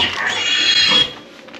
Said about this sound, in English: And you would hear a pig squealing.